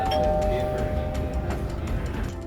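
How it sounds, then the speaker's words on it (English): A doorbell rings inside a home, giving a clear sustained chime tone over a busy background, with a voice speaking alongside it. "whenever I sit down in my chair, without fail, the doorbell rings."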